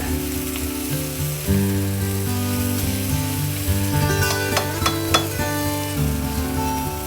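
Pieces of taro frying in oil in a pan, a steady loud sizzle and crackle with some stirring, no talking.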